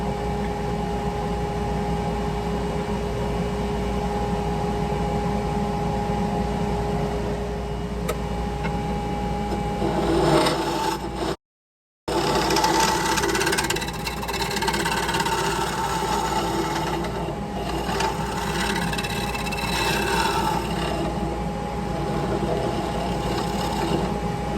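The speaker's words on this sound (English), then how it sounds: "when you start getting chips that are almost ribbon-like, it means you're cutting wood all the way around in a single cut" Wood lathe turning a live-edge catalpa wood bowl, a steady motor drone with a continuous cutting hiss from the tool, briefly cut out partway through, then resuming with rising and falling scraping tones as the cut sweeps around.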